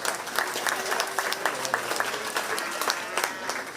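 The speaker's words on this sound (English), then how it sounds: "Give them a big round of applause as they head back." An audience at a county fair 4-H swine show applauds in a dense, continuous patter of moderate loudness that carries on steadily throughout.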